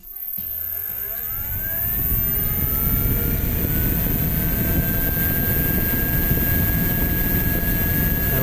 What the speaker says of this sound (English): So you can see at 25 the fan's cut in, and I'll just turn the speed up.